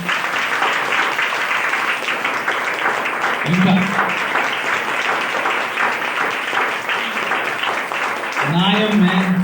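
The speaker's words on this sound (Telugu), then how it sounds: "ఒకసారి గట్టిగా చప్పట్లు కొడదామా?" A church congregation claps loudly and continuously during a Sunday service, a dense, steady wall of applause with a speaker's voice briefly rising over it twice.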